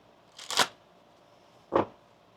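Tarot cards being shuffled, heard as two short close riffling bursts separated by a brief quiet gap.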